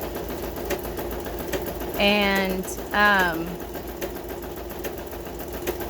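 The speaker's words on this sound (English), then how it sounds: "I'm gonna run it through the sewing machine." A sewing machine stitches through book pages with a steady mechanical whir and fast tapping, while a voice briefly speaks over it twice.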